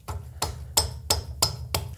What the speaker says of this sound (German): Darf man da ein bisschen hämmerle?